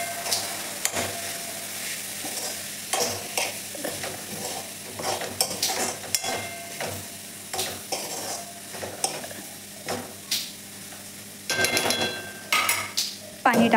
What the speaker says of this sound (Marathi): व्यवस्थित परतून घेऊ परत।